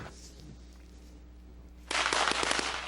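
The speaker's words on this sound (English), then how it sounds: "I threw firecrackers down in front of him." Firecrackers thrown down in front of a horse burst into a loud, close, crackling volley of rapid pops after a quiet stretch of outdoor background noise.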